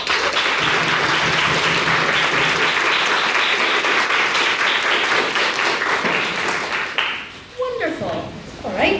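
An audience applauds after a debate vote result, a loud, sustained burst of clapping that fades after about seven seconds into scattered claps and voices, then picks up again briefly.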